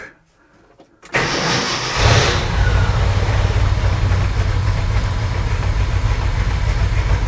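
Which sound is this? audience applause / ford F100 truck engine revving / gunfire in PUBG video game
ford F100 truck engine revving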